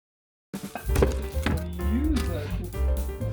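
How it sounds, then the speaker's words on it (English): Onions, garlic and scallion diced on a cutting board with a knife: a run of sharp close chopping taps, with a voice talking over parts of it. "Now we will just start out with just dicing some onions, garlic, and scallion."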